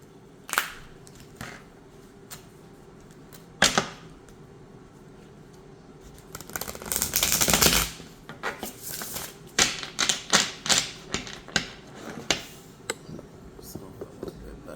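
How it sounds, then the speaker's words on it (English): Tarot cards being shuffled by hand, a run of crisp flicks and riffling taps with a denser burst of shuffling in the middle, close up, with occasional quiet speech. "I'm not going to take nothing yet because I'm not finished shuffling"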